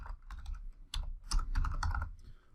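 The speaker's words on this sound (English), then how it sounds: "I just type in T and enter, and it has that in there for me" Computer keyboard typed on close up while entering values into a woodworking design program: a brief flurry of quick, uneven keystroke clicks with no talk.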